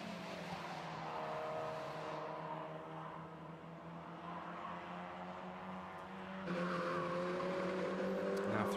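TCR UK touring race cars at Croft Circuit, engines screaming at high revs with gear changes and shifting pitch as cars pass, a second louder car joining partway, heard at a distance behind commentary.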